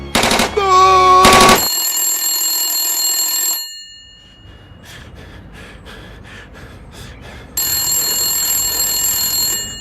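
In an audio drama, a telephone rings loudly in electronic tones, cut in after a sharp gasp-like burst and a stretch of rapid clattering, then resumes steadily near the end.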